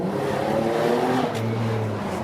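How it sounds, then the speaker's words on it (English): Toyota Supra engine revving on a Bath street, a loud steady drone that climbs and then settles lower, heard close up with nothing else over it. "So if Monty gives a little rev, you'll be able to hear it from the outside."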